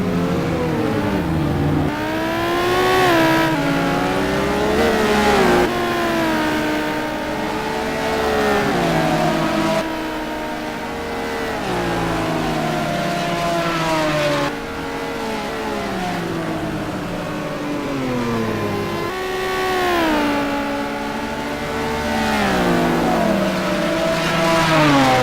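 Several 500-horsepower rear-wheel-drive GT supercars in a sim racing game at Spa in wet conditions scream continuously, engine pitches climbing and dropping through repeated gear changes, loud and sustained.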